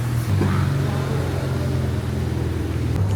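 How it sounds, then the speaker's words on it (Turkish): A car pulls up nearby on a street in Dubai, with a steady low engine drone and a short rising rev near the start and no talk. "Arabamız geldi."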